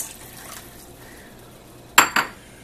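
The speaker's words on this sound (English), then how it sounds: "Now here's all our reserved liquid." Reserved liquid from canned pork splashes into a cooking pot in two short, close pours after a quiet kitchen pause, with no talking.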